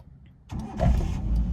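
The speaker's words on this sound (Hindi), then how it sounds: "अभी इंजन ऑन करो" A car engine cranks and catches about halfway through a learner-driving lesson, then settles into a low, steady idle close by after a brief quiet moment.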